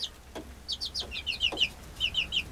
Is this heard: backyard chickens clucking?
yes